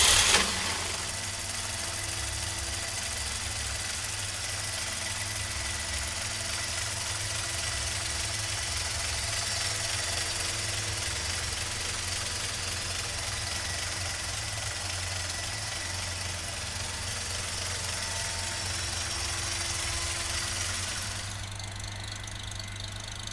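A 1952 GMC five-window pickup's engine catches with a sharp start and settles into a steady, close idle with a faint squeal, running evenly for a long stretch before easing slightly near the end.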